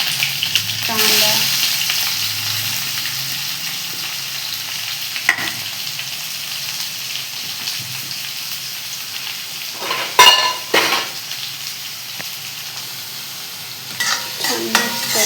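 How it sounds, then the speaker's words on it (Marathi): Onions fry with curry leaves, cumin and mustard seeds in a pan, making a steady close sizzle, with a few occasional clanks and scrapes of stirring and no talking. "छान मिक्स करायचं. छान कांदा ब्राऊन होऊ द्यायचा आहे."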